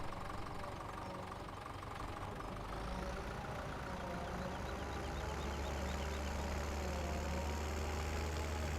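A John Deere loader with an oversized bucket idles and works in the video game Farming Simulator 17, a steady, close mid-pitched engine drone that rises slightly in pitch partway through and holds without a break.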